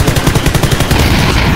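Rapid bursts of video game gunfire with blasts of an exploding vehicle, loud and continuous, a dense rattling volley that runs through the whole moment.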